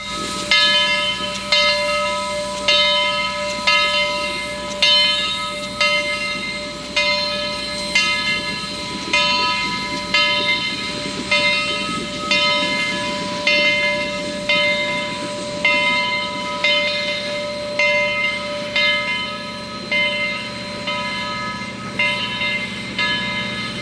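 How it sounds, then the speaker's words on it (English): Southern Railway 4501, a steam locomotive standing at a station platform, hisses loudly and steadily, with regular rhythmic chuffing pulses and a sustained tonal ring, heard alone. "4501 rolled into the platform in preparations for the first train of the day."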